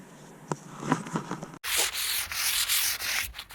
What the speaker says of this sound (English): I like to sand between each coat